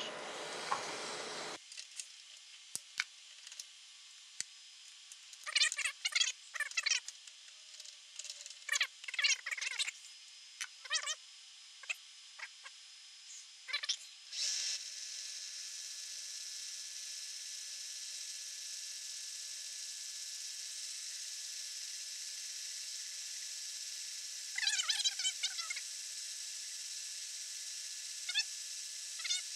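Metal boring on a Haas TL-1 CNC lathe: a steady high-pitched machining hiss with scattered chattering bursts and scraping clicks, continuous and fairly close.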